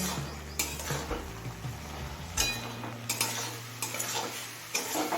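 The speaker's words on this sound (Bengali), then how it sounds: "এবার হাই ফ্লেমে এই জলটা শুকিয়ে আসা পর্যন্ত রান্না করে নেব" Fenugreek greens cook on a high flame in a pan, a close sizzle punctuated by sharp clinks and scrapes of a metal spoon against the pan as they are tossed.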